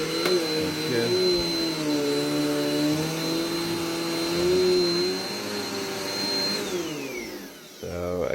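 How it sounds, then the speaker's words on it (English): An Eureka Air Speed vacuum cleaner runs continuously and loudly close by, a strong motor whine with a steady high tone that wavers slightly, then winds down near the end. "I really like this vacuum cleaner. Very powerful, very great."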